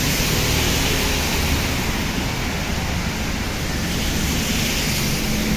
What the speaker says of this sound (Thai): ฝนมันตกแล้วก็มีลมด้วยนะครับ